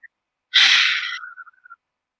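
A single deep breath drawn in and pushed out through the mouth during a children's breathing exercise, one loud breathy burst that trails into a thin fading whistle, alone with no talk.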